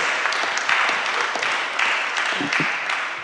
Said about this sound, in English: I just want to get some applause for you.